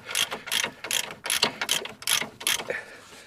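Short, loud bursts of ratchet clicking repeat about seven times in quick rhythm as a ratchet undoes 21mm-headed M16 bolts on an Iveco Daily camper van's front suspension, heard up close with no talk.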